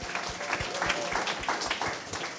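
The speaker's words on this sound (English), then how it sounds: "So please, let's give her a round of applause." Audience applause at a Pahoa community meeting in Hawaii, a steady wash of many hands clapping at moderate distance for a couple of seconds with faint voices mixed in.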